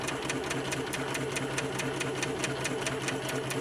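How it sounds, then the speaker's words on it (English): A Spiegel 60609 sewing machine straight-stitches a hem, its needle running in a fast, steady mechanical rattle close by with an even beat throughout. "I'm just going to straight stitch all the way down"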